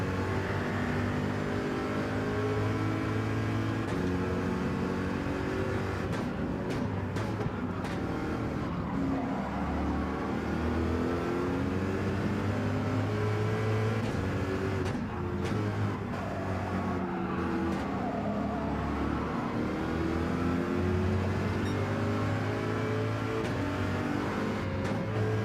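Gr.3 race cars, among them a Porsche, racing in Gran Turismo 7: a steady loud engine roar from several cars running close together, with revs rising and falling through corners and occasional tire noise, no talk.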